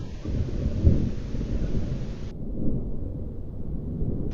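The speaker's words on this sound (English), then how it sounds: "Wow, look at that thunder." Rolling thunder from a storm in the video game DrizzlePath: Genie rumbles low and steady with a wind-like wash, one stronger crack near the start, continuous and fairly loud without any voices.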